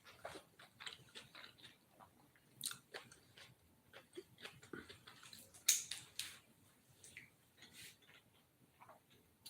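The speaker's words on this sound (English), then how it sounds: "Time to take a bite." Someone bites into and chews a Nashville hot chicken burger with mayo and blue cheese, close, quiet crunchy bites and wet chewing clicks in an irregular run.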